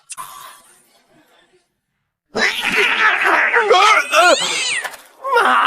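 A cat meows repeatedly in a chaotic scene, loud wavering cries overlapping with people's voices and laughter after a brief quiet pause.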